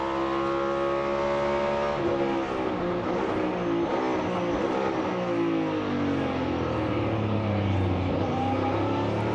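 Christopher Bell's NASCAR Cup race car brakes into a turn at the Texas Grand Prix road course, its loud, steady engine drone dropping in pitch as it slows, then rising again as the engine revs back up.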